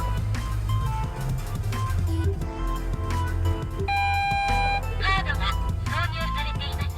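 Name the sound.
ETC toll unit beeping in a Honda Fit Hybrid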